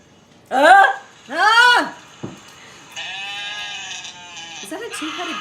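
Two people take turns mimicking goat bleats, each a loud, wavering, vibrato-laden cry a second or so long, with a short sharp yelp after them and then a steady hum in the background.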